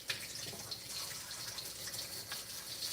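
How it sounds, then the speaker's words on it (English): Faint, steady running water from a kitchen tap as something is rinsed off, a soft hiss with small splashes and no talking. "Let me rinse this thing"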